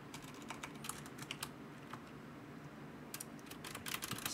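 Someone types on a computer keyboard, with quiet irregular key clicks and a few louder bursts of keystrokes, close and alone without talk.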